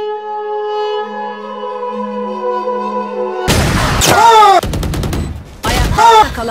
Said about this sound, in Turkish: Bir daha mermi atayım